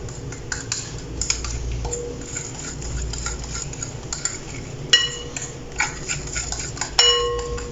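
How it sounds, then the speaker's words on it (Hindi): A spoon scrapes and clinks against a bowl while stirring milk powder into an egg and baking powder mixture, irregular close taps and scraping with an occasional sharper clang, no talking. "थोड़ा थोड़ा करके डालते जाएंगे और अच्छे से मिक्स कर लेंगे।"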